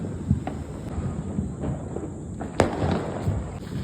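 Diwali firecrackers burst outdoors in a few sharp cracks at irregular intervals, the loudest bang coming near the end, over a background of wind rumble and faint noise.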